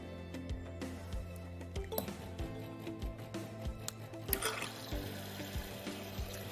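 A De'Longhi Eletta Explore bean-to-cup machine dispenses milk with a soft, liquid stream over a low pump hum, with faint clicks and gurgles throughout, quiet and close.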